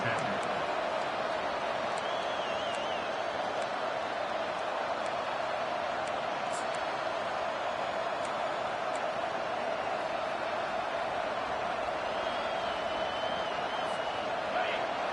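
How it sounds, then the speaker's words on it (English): Stadium crowd noise rumbles steadily through a Miami at South Carolina game in the NCAA 25 football video game, a constant dense roar with faint whistles on top. "This crowd trying to make life miserable for this offense."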